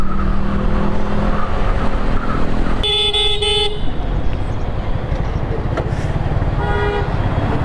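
Group of riders moving along a hilly road to Bandarban, with steady engine and road noise throughout and a short, loud multi-tone horn blast partway through, then a fainter honk near the end.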